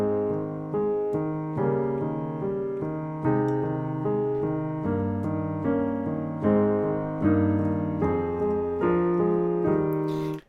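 A solo piano plays a Beethoven piece with even, unshaped touch so the melody does not stand out, steady repeated chords and broken figures ringing close and moderately loud throughout.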